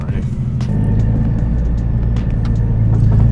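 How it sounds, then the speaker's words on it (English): A Nissan 370Z with a stage 1 build making about 320 wheel horsepower idles with a steady, deep exhaust rumble heard from inside the cabin, under quiet interior sounds. "I can already hear the exhaust"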